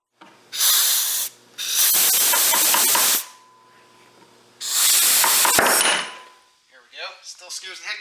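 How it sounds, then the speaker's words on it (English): Compressed air forces a piston out of its bore in three loud, hissing blasts that spray fluid, with a sharp metallic clang partway through, followed by quieter scraping and handling sounds. "now I can start to see the air come around the piston, so I know I'm getting close. It's starting to spray fluid and stuff around it."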